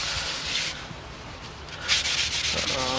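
Brake parts cleaner wiped across the surface of a new brake rotor on a 2003 BMW 745Li, a soft continuous rubbing and scrubbing, close and fairly quiet.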